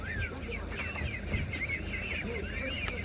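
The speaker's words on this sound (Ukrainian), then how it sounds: "Дивіться, качка ось така. Така молода качка по 120 гривень." Young ducks quack in short repeated calls close by, over the steady murmur of a busy outdoor market in Ukraine.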